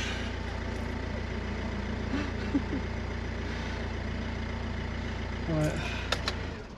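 A Mercedes Sprinter van with electrical problems idles with a steady low engine rumble throughout, with a few faint clicks and brief higher tones near the end.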